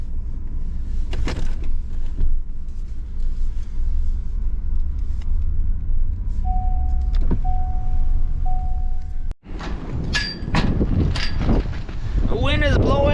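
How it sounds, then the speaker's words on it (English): Wind blows steadily outdoors on a slippery, snowy day with drifting snow, a broad low rumble running throughout, with brief mechanical whirring and a voice talking near the end. "The wind is blowing."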